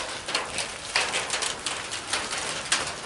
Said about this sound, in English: It's been raining quite a bit.